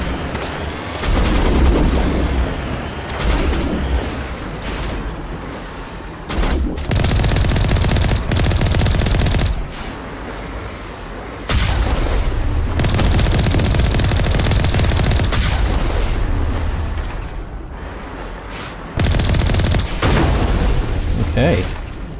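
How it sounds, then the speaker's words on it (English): Enemy gunfire in the Mass Effect video game: sustained bursts of rapid, loud shooting with booming impacts, pausing briefly and resuming over and over, under occasional talk. "looks like they're already firing on us"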